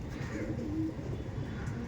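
Punjabi pigeons cooing, a brief soft low coo close by against a muffled steady background.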